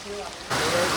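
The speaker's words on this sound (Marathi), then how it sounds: "खूप जोरात पाऊस सुरू झालेला आहे" Heavy monsoon rain pouring outside a temple in Mahabaleshwar, a dense hiss that swells suddenly louder halfway through and then holds steady.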